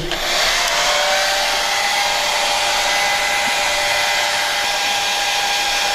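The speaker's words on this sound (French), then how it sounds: "Je prends donc mon sèche-cheveux." A hair dryer on its cold setting, drying starched tulle during the restoration of an old Touraine bonnet, blows a loud, steady, close rushing whoosh with a faint motor whine that holds unchanged throughout.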